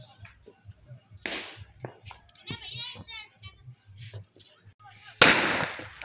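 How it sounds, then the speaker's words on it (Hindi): Firecrackers going off during Diwali celebrations in Rajpur, with several sharp pops and crackling bursts, one loud bang near the end, while children and adults talk nearby throughout. "पटाखे चला रहे हैं"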